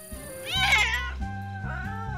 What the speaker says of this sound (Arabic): نانو، انظر، هذه هرة برية.